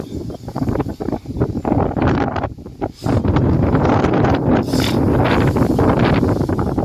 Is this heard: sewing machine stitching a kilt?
no